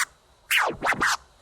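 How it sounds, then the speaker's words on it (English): A DJ does a tear scratch on a turntable, one forward stroke and two quick back strokes, giving three sharp sweeping record sounds after a brief opening blip, alone and close. "I'll show you 2 different variations using the tear scratch"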